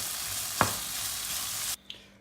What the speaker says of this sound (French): Enfin, je mélange le tout, puis je coupe le feu